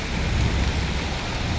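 Heavy rain pouring in Nagpur, a dense continuous roar of water hitting surfaces, loud and steady throughout with no voices.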